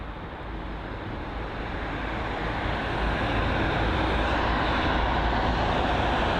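A JetBlue A321neo airliner taxis toward the runway at Heathrow with a steady broadband engine roar that swells slightly as it goes, heard from a moderate distance with no voices.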